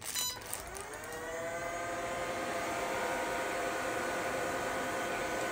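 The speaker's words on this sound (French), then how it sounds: "J'ai appuyé sur la télécommande et ça a démarré l'aspirateur et ça vraiment le vent" A vacuum cleaner started by remote control spins up with a brief clatter, then settles into a steady, loud whine with a high-pitched tonal hum and rushing air.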